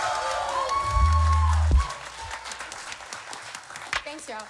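Live concert crowd applauding and cheering at a show at Komodo City Café, a broad noisy wash that swells after music and singing fade out, with scattered shouts and talk in the mix.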